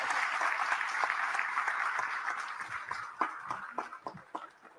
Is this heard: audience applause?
yes